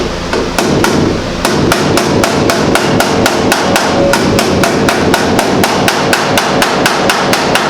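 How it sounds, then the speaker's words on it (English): Rapid, evenly spaced body hammer blows ring out on sheet metal of a Model A hot rod truck roof, loud and close, a steady metallic pounding rhythm with no speech. "so I'm just going to take it and beat it along the way and work it down with the body hammer"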